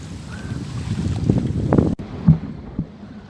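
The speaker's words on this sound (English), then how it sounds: "So the wind is really picked up now." Strong wind of about 20 knots rushes across the microphone aboard a sailboat at sea, with water sloshing against the hull and a few bumps before the gusting noise cuts off abruptly.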